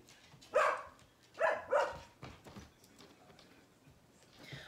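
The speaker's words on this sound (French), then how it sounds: "Il y a Léa qui vocalise beaucoup." Two dogs meeting and interacting give a few short barks and yelps, clustered in the first two seconds and then trailing into fainter whines and snuffles, fairly close with no talk.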